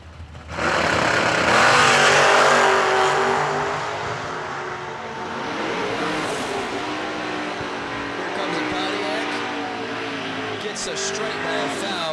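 Drag race launch of a GTO and a 1967 Camaro at the strip, a loud roaring surge of engines that climbs and then holds as the cars pull away, with an announcer talking over the noise.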